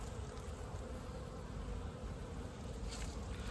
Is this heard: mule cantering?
no